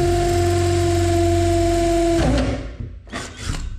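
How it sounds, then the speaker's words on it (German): A power drill bores through the brick wall of a house in the Paraguayan Chaco during electrical installation work, a loud, steady whine that stops abruptly, followed by a couple of short bursts. "dann setzt ihr den Bohrer an."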